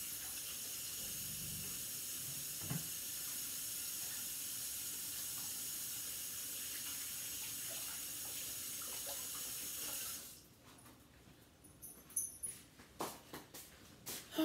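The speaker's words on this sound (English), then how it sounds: "I'm going to throw this in the sink and wash my hands." Water runs steadily from a kitchen tap for about ten seconds, then stops, followed by soft splashes and clinks as hands are rinsed and shaken at the kitchen sink.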